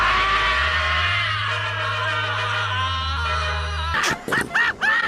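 A man in a boxing anime screams in terror, a long, loud, wavering cry over a droning tone that breaks at the end into several choppy, gasping bursts.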